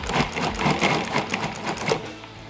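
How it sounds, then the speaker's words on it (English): A food processor gives a few short, choppy pulses while blending walnuts into gluten-free muffin batter, close and fairly loud, with no one talking. "The last thing we're going to do is just blend in some walnuts"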